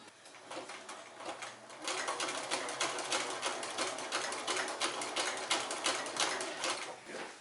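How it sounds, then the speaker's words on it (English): A sewing machine runs a back-and-forth zigzag stitch on a lined hooded cloak, a close, rapid, even clatter that builds after a softer start and keeps going steadily, with no voices. "I'm just going to use my machine to do it. I can do a zigzag stitch and go back and forth"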